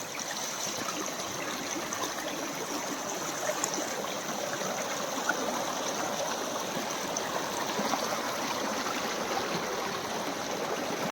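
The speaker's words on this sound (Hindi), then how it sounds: "ये है जनवरी में हमारे यहाँ की नदी का हाल, और पानी जो है अब कम होने लगा है" A village river in January runs low but steady, its continuous rushing and gurgling close and even, with no voices over it.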